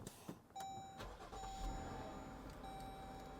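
A 3.6 liter V6 automatic car at a public auto auction cranks briefly and settles into a quiet, steady idle, accompanied by faint high electronic chimes.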